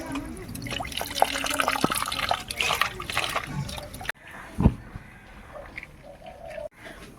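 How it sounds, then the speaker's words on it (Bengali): Live bata fish being washed in water in a village kitchen, with splashing and sloshing liquid and a birdlike coo in the background, busy for about four seconds before quieting to softer water movement. "বাটা মাছগুলোকে একটু ভালো করে ধুয়ে নিই"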